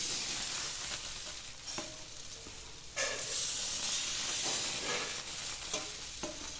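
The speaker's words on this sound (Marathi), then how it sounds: "घावणे करायचं चालू आहे बायकोचं. ते पण भाकरीच्या तव्यावर." Ghavane, thin rice-flour crepes, sizzle and hiss steadily on an iron bhakri griddle, with a louder burst of frying partway through and occasional scrapes and taps of a utensil against the pan.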